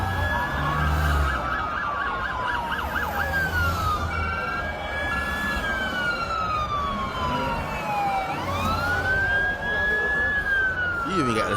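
Police car sirens wail and sweep up and down, several overlapping tones rising and falling loudly over rumbling traffic, with voices talking beneath in the first moments.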